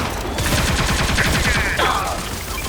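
Rapid bursts of gunfire from the Fortnite video game, a dense run of close, repeated shots, with a sweeping electronic effect layered partway through.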